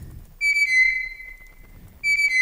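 A pure, whistle-like synthesized butcherbird call melody glides down through a couple of notes, pauses, then starts again, clear and close with no other sounds.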